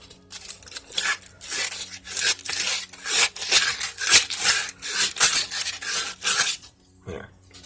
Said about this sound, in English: I'm going to go ahead and sand this up first to give it something to adhere to.